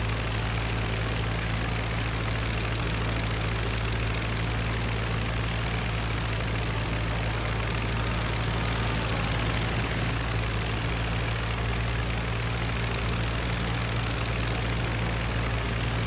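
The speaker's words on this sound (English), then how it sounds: "They're flying by and making fighter plane noises." A constant, droning fighter plane engine hum from a video game, Flying Circus, fills the whole stretch, steady and loud with a low rumbling tone and no break or voices.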